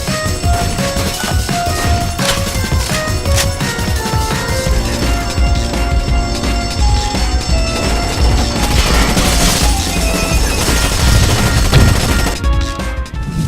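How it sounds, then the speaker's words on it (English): Sustained gunfire from the video game Rainbow Six Vegas 2, dense rapid bursts and booms running nonstop under loud layered game music, with no speech. "Guns sound as they should"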